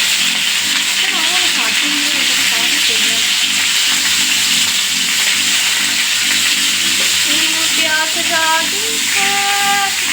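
Pointed gourd (potol) frying in hot oil with salt and turmeric, a steady loud sizzle running the whole time with stirring scrapes and faint clinks, no talk.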